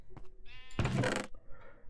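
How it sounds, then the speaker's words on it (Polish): A single Minecraft sheep gives a short, nasal bleat, loud and close, with a few faint game sounds just before and after it. "O, czarna owca."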